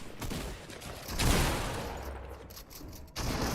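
Gunfire in the Fortnite video game rattles out in a dense, continuous fusillade of rapid shots, loud and close, with a brief lull before another burst near the end; no one speaks.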